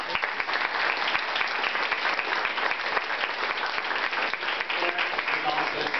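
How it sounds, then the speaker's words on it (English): Steady audience applause at a hall of fame acceptance speech honouring a school principal, a continuous wash of clapping with crowd murmur mixed in throughout. "Round of applause."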